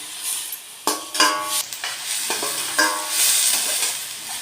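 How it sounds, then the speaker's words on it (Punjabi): Four chopped onions frying in oil in a kadai, a steady close sizzle broken by several sharp scrapes and clatters of a spoon stirring against the pan, with no talk. "ਆਪਾਂ ਇਹਨਾਂ ਨੂੰ ਥੋੜਾ ਫਰਾਈ ਕਰਾਂਗੇ"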